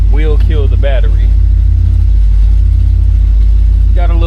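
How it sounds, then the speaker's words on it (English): 1968 Chevrolet Impala SS convertible running, a deep, loud, steady low rumble throughout, with someone talking over it at the start and end. "go ahead and start it up so we can get the top up"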